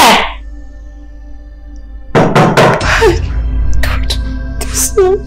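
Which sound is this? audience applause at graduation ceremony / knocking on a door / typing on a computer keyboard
knocking on a door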